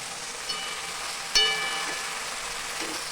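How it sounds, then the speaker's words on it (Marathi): Lentils and salt being stirred in a frying pan, a soft continuous sizzle with a few light scrapes and one sharper clink of the utensil against the pan. "डाळ घातलेली आहे मीठ घातलेली आहे आता आपण याला हलवून घेऊया"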